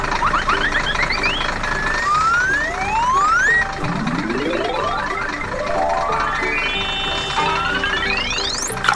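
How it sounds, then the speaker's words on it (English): A fire truck siren wails in rising and falling sweeps, loud and close, over a rumbling engine, with no talking. "Fire truck."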